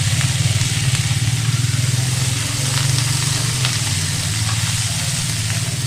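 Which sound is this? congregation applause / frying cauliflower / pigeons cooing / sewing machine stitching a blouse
frying cauliflower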